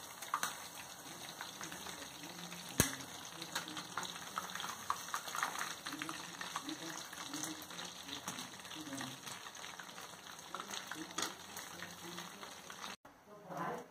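Chicken 65 pieces fry in a pan with a steady, soft crackling sizzle, punctuated by a few sharper pops and a clink near the end.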